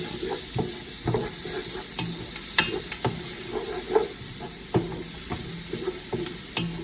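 Food sautés in a hot pan for a béchamel lasagna, a continuous close sizzle broken by repeated clacks and scrapes of stirring, with no talking.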